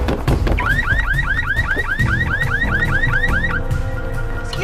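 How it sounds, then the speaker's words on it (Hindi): A green Volkswagen's car alarm goes off loudly, a rapid repeating warbling whoop cycling steadily close by, with no talk over it. "वो गाड़ी का अलार्म बज रहा है।"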